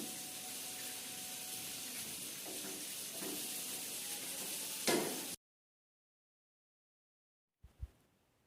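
Ginger garlic paste hits hot ghee in a pan with a loud, even hiss that lasts about five seconds, then cuts to silence before a single soft knock.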